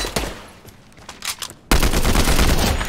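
Combat Assault Rifle fire in Fortnite: scattered shots at first, then a loud, sustained burst of rapid automatic gunfire that fills the second half.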